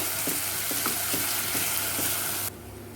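Onions with ginger garlic paste fry in a pressure cooker pot for mutton pulao, a loud continuous sizzle with soft rhythmic stirring scrapes, dropping suddenly quieter near the end.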